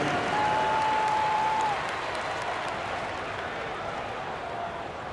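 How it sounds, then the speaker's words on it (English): Crowd applause in an NBA 2K24 arena for the Utah Jazz dancers, dense sustained clapping and cheering that holds steady, then eases slightly, with a faint whistle near the start. "Give a big round of applause once again for your Jazz dancers dance team."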